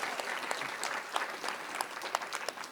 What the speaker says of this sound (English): So give Bella a big round of applause.